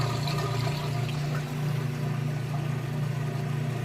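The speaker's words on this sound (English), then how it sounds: "You can hear it draining that water out nice and fast." A Crosley washing machine drains water with a steady low pump hum and rushing, gurgling flow, continuous and close by.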